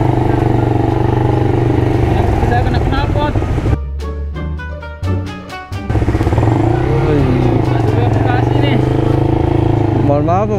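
A broken Honda Monkey motorcycle runs close by with a loud, steady engine hum that briefly drops out midway and then resumes, while people talk over it.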